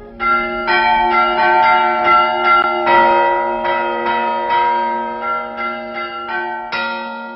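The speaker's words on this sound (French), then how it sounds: "Un sonneur de cloche dont l'art est en voie de disparition." A church tower bell rung by hand by an elderly bell ringer peals in a steady series of loud strokes, each ring swelling and overlapping the last with a long humming decay, heard alone.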